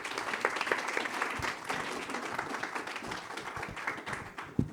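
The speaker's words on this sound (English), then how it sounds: "And let's give them one more round of applause." An audience applauds at the close of a conference panel on CBDCs and stablecoins across borders, a dense, sustained clatter of many hands at moderate volume throughout.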